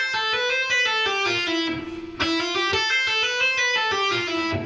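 A quicker run of electric guitar hammer-ons and pull-offs cycles through the same lick, notes tumbling out in a fast, flowing stream with one short pause midway, close and bright with nobody speaking.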